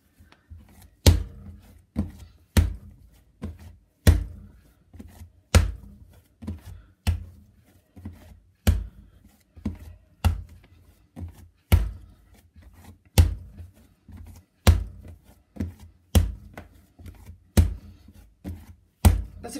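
Homemade chamomile-flavoured bread dough is kneaded by hand on a table, giving a steady series of loud, sharp slaps and thumps repeating roughly every second, with no talking.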